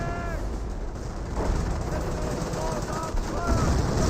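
Gunfire from M182 guns in the WWII strategy game Company of Heroes, a steady bed of distant battle noise and scattered shots running under a continuous game soundscape, with faint tonal unit sounds, no clear individual bursts standing out.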